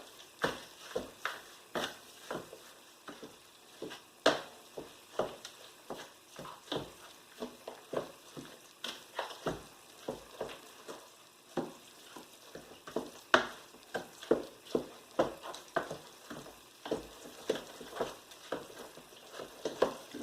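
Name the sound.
mixing cornbread dressing with a big wooden spoon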